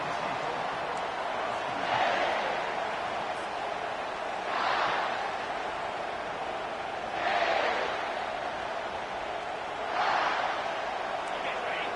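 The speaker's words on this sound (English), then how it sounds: "This crowd bringing an ear-splitting welcome to their visitors." A college football stadium crowd roars with a steady, loud wash of cheering that swells in repeated surges every few seconds as the visiting team takes the field.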